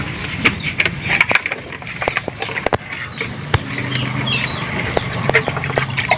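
Birds call outdoors in short, sharp chirps and duck-like quacks that repeat irregularly over a steady background, fairly close and clear, with no speech.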